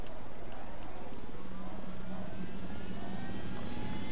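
Helicopter in the video game Ghost Recon Wildlands, a loud, constant engine and rotor roar filling the whole stretch without letting up.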